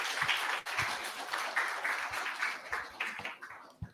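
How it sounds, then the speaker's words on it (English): An audience at a React developer meetup in Chennai bursts into steady applause, many hands clapping in a dense patter that fades slightly toward the end. "Let's give a big round of applause, guys."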